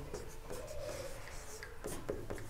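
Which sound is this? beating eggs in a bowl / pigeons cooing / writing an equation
writing an equation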